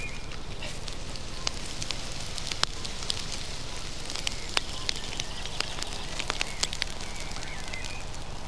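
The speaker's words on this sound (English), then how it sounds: "The bonfire looked impressive" A large outdoor garden bonfire burning, a steady dense crackle and hiss with frequent sharp pops and snaps scattered throughout, continuous and fairly loud with no talking.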